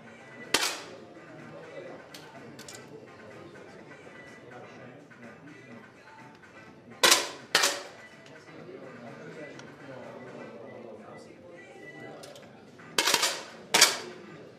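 Sharp competition rifle shots at a youth rifle championship bronze match, heard as single cracks and close pairs spaced several seconds apart, moderately loud over a steady background of talk and hall murmur.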